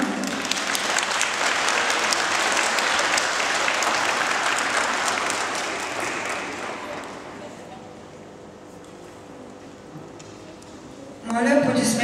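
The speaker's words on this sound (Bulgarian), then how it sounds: "А сега моля за вашите аплодисменти за участничките в турнира" A crowd at the opening ceremony of a 2014 rhythmic gymnastics tournament applauds in a broad, loud wave that gradually fades over several seconds, before a voice comes in over an amplified system near the end.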